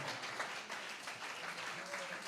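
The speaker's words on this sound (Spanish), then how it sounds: "Den un aplauso fuerte para la gloria del Señor" A church congregation applauding, steady continuous clapping from many people at low level, rather distant and even, with a faint voice in the background.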